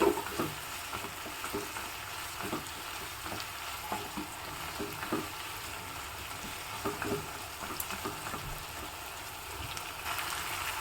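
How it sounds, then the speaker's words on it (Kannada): Ridge gourd frying in a pan for a traditional side dish, a steady crackling sizzle with scattered spatula scrapes and small pops throughout, fairly close and without talk. "ಒಂದು ಸ್ವಲ್ಪ ಫ್ರೈ ಆದ ನಂತರ ತುಂಬ ನೋಡಿ ಸಣ್ಣಗೆ ಫ್ರೈ ಆಗಬೇಕಲ್ವಾ"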